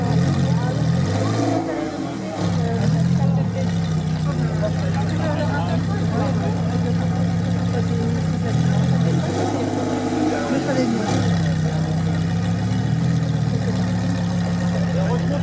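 A Lamborghini Huracan STO engine running close by, a steady loud mechanical drone with a few revving swells as it pulls away, with someone talking over it.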